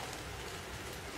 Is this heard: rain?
yes